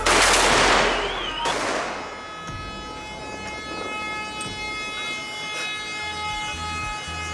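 At an Algerian wedding convoy, a loud blast and a burst of celebratory gunfire open the clip, followed by scattered sharp cracks and reports over a sustained noisy outdoor din.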